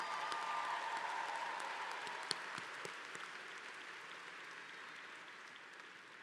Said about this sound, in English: Ladies and gentlemen, give her another round of applause.